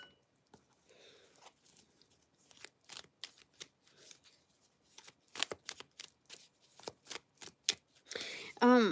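A deck of cards riffle-shuffled up close, in quick crisp bursts of flicking that grow louder and faster toward the end, with a voice heard briefly.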